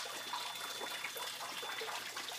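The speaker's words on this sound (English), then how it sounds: "Light's got some dripping" Water dripping and trickling from a light fixture in a flooding apartment, a faint, continuous watery patter with no talking.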